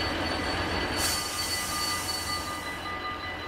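A video game train slowing into a station: steady rumble and rail noise with high squealing wheels as it rolls along, continuous and fairly loud with no talking.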